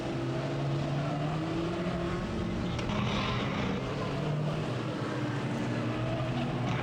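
Race cars circulating at Bovingdon Raceway, a continuous mid-distance engine drone that rises and falls slightly with wind noise throughout and no clear pauses.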